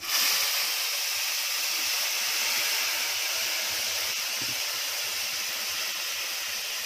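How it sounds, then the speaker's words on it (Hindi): Water poured into a hot pan while cooking a Konkani sweet hisses and sizzles with steady, loud steam for several seconds, a continuous broad rush with no voices over it. "अब इसमें ये देखो गरम करने पानी रखी हूँ, मैं पानी पहले डालूंगी, बाद में दूध डालूंगी।"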